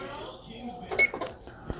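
An oven timer beeps as a batch of Rice Krispies Treats macarons (Italian meringue) finishes baking: a brief electronic tone near the middle, with a second short chirp just after, amid quiet kitchen noise and some talk.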